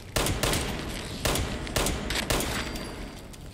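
Gunfire in Fallout 76 plays as a burst of about five heavy, booming shots at a steady pace, loud and close, with dense rumbling tails between them.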